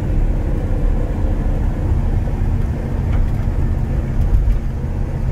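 A 1976 Holden Torana LX SS hatchback with a 5-litre engine and 4-speed manual gearbox drives past, producing a loud, steady, deep rumble that holds for the whole stretch.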